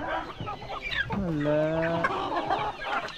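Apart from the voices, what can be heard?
chickens clucking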